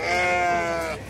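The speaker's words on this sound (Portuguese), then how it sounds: "Vamos esses dois bodinhos aqui." A young male goat at an animal market in Tabira, Pernambuco, gives a single loud, close bleat with a wavering tone, about a second long.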